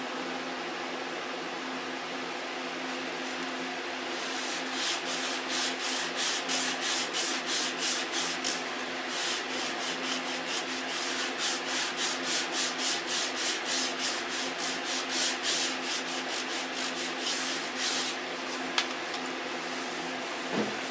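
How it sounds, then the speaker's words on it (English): A model part, such as a molded canopy, is sanded by hand in fast, regular back-and-forth strokes. The rasping is close and continuous for about twenty seconds over a steady background hum, with no voices. "How many times do you sand it?"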